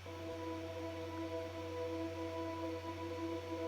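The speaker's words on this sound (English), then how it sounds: "And some ambience, which I put through some room, which is a reverb plugin" Soft sustained ambient pad with steady tones, run through a Room reverb plugin, a quiet even wash of sound that holds throughout with no speech.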